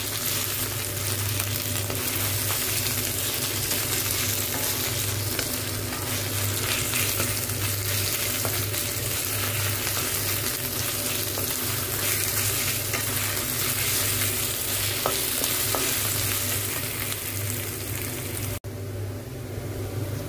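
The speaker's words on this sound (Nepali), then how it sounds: "अदुवा अनि लसुन मसिनो गरेर पिसेको थिएँ चुलौटामा। यो यहीँ राख्दैछु। यसलाई नि राम्रोसँग भुट्नुपर्छ" Ginger and garlic paste fries in a hot pan for a Nepali goat bhutuwa, a steady loud sizzle with faint stirring scrapes running unbroken throughout.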